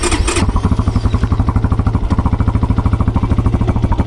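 A Regulmoto TE enduro motorcycle engine sputters to life on its first start after assembly and settles into a rapid, even idle, loud and close.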